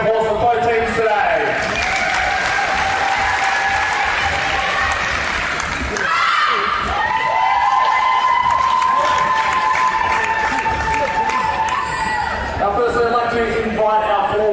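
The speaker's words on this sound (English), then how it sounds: "if we can give one big more round of applause for both teams today" Crowd at a women's under-19 basketball final applauding and cheering for both teams, a sustained, loud wash of clapping and shouts with no break, some calls rising above it.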